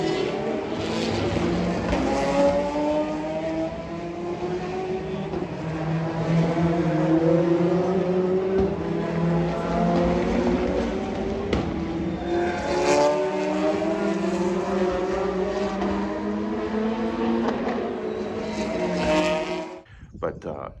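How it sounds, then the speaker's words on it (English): Racing cars lapping a circuit during a track training day in France, engines droning and revving through gear changes, repeatedly rising and falling in pitch as they pass, loud and continuous, with a voice talking over them. "I got up this morning and we drove to watch the cars, and my goodness, they are cool"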